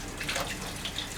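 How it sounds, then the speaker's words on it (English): A juicer part being rinsed under a running tap, a steady close hiss of flowing water splashing over plastic, brief and alone without talk. "Just rinse this in and out, take this around the inside."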